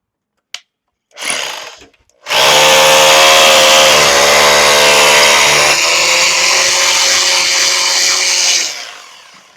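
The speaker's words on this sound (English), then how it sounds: "Go ahead and turn it to hammer though." A Bosch Bulldog Xtreme rotary hammer in hammer mode bores into concrete, a loud, steady, close-up grinding hammer roar sustained for about six seconds after a couple of brief bursts, then cutting off.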